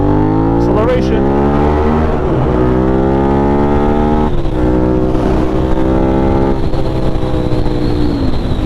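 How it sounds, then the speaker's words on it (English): A Suzuki SV650 motorcycle accelerates on a city street at night, its engine note climbing through repeated rising pulls between gear changes, loud and close against heavy wind rush. "Acceleration."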